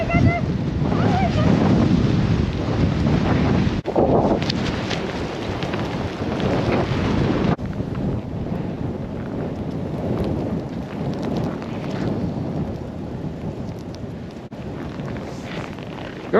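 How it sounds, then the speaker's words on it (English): A strong blizzard wind blasts outdoors and buffets the microphone with a loud, continuous roar, broken by a few abrupt gusts and dropouts. "It's so windy over here, guys. I am almost carried by the wind."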